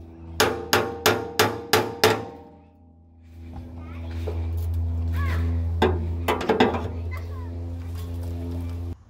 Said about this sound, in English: Gonna get in there with a pry bar and see how well I cut them.